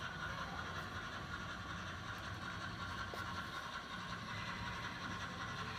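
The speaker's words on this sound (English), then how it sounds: "my little mogul up here running. Coming up the branch." A small model railroad mogul steam locomotive runs along a branch line on a club layout with a scratch-built trestle, giving a steady, continuous rolling rumble and faint track noise throughout.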